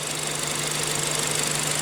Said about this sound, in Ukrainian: вже двигун працює ідеально